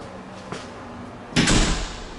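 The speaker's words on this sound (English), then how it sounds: "I'll close this door." A bathroom door in a home swings shut with a single solid thud after a quiet moment, close by, with a faint earlier knock.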